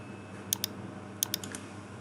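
Two quick pairs of crisp computer clicks, close and sharp, as a calculate button is pressed on a PC, with faint room hum between.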